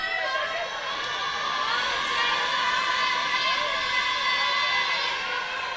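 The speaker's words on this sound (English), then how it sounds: "Look at Grand Falls crowd getting into it on the other end." A high-school volleyball crowd for Grand Falls cheers in a gym, a dense continuous wash of shouting, whooping and chatter at steady level with some children's voices mixed in.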